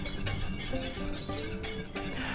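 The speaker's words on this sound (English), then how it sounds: "just keep stirring" Hollandaise sauce being stirred in a pan on a stovetop burner, with soft repeated scraping and light clinks of a utensil against the pan over a steady background hum.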